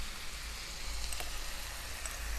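Chicken mince sizzles in a pan with browned ginger and garlic, a steady, quiet frying hiss that holds for a few seconds with no talking.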